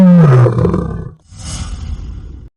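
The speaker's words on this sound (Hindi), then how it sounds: "कुएं में उसकी ही आवाज गूंजकर वापस आई।" A lion's powerful roar, staged in a storytelling scene as an echo off a well, bursts out loud and close, then falls away into a hollow, reverberant rumble.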